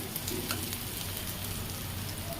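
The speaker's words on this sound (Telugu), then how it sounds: "ఈ విధంగా ఆనియన్స్ వేగే వరకు వేయించుకోవాలి" Onions are frying in a pan for an egg fry, giving a continuous close, dense sizzle with faint crackles throughout the short stretch, with no talk.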